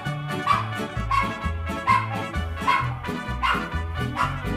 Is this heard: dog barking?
yes